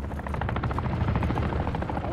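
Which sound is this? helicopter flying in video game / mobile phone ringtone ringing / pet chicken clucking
helicopter flying in video game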